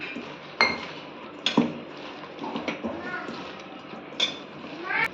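Ingredients for a crispy lady's finger (okra) fry snack being mixed in a bowl, with scattered clinks and scrapes of a utensil against the dish, a few sharper knocks standing out over a quiet room background.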